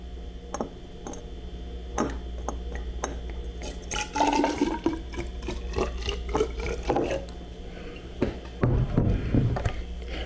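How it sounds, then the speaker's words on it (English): Liquid is poured into a wine-making vessel with its airlock removed, a short splashing, trickling fill rising near the middle and again toward the end over a steady low hum, with no talk. "we're going to pour tiny bit of this in here"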